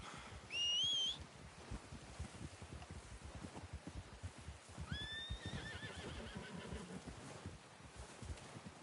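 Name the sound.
horse neighing in Red Dead Redemption video game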